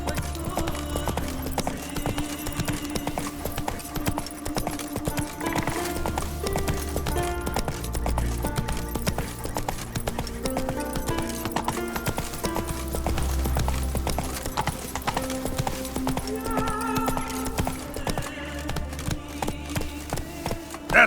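Roach the horse trots in The Witcher 3, her hooves clip-clopping in a steady, close rhythm over game music for the whole stretch.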